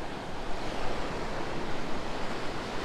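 Ocean waves at Pondicherry beach crash and wash continuously in a loud, broad roar of surf, with wind buffeting the microphone.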